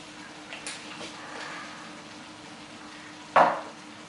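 Pork neck with garlic, herbs and pepper is stirred in a kazan: a low sizzle runs throughout, with a couple of soft scrapes early and one sharp metallic clank of utensil against pot near the end.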